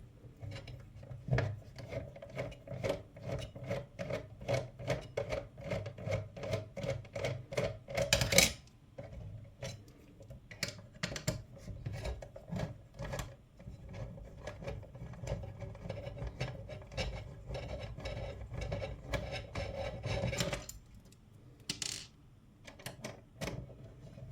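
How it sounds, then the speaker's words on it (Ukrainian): Side screws being backed out of a GTV AE-PBSC3GS-53 built-in socket block, a close, steady run of fast scratchy metal-on-plastic rasping strokes with brief pauses, heard alone without talk. "Тут є по боках два гвинти. Нам їх треба викрутити."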